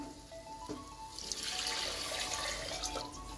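Water pours steadily into a cooking pot for tomato rice with basmati, a close rushing splash that starts partway through and continues to the end, with no talking.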